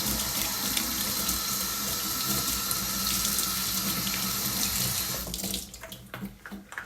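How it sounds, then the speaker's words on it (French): Clear tap water runs steadily into a sink for rinsing, a loud close continuous splashing rush that stops near the end, leaving brief clattering and drips. "je vais rincer tout simplement à l'eau claire"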